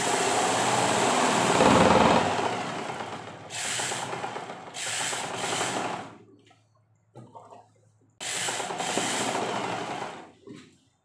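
An old-style sewing machine running in bursts, a dense rattling mechanical whir that starts and stops several times with short quiet gaps and light clicks between runs, close by.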